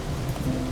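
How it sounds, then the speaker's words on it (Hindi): Heavy rain pours down in a dense, continuous hiss, loud and even across a brief moment with no other sounds. "इतनी बारिश हो रही है"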